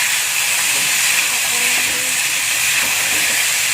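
A steady, close hiss of carrots, potatoes, spring onions and celery leaves frying in a pan as they are stirred, with faint speech briefly breaking through the sizzle.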